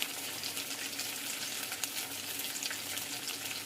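Ground turmeric and cumin fry in a pan, producing a continuous moderate sizzle with faint crackles and no talking.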